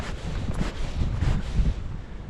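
Wind gusting over the microphone beside a trout stream, a loud, continuous low rumble that swells and eases throughout.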